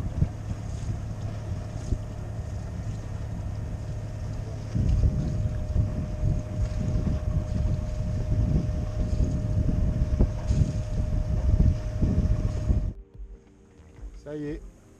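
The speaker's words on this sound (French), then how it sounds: "Ça y est, toute voile dehors." A sailboat runs under full sail on a fine spring day, with steady wind rushing over the microphone and water washing past the hull, louder through the middle, then dropping off abruptly near the end.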